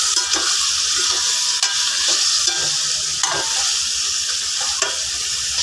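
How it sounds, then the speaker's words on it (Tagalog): A spatula stirs sautéed meat seasoned with fish sauce, for a dish with string beans, in a sizzling frying pan: constant loud frying hiss broken by repeated scraping strokes against the pan, with no talk. "Haluin natin."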